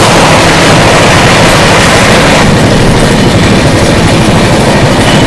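Bangalore Rajdhani Express train passing close by, a loud continuous rumble with rapid clickety-clack of wheels over rail joints throughout, no voices.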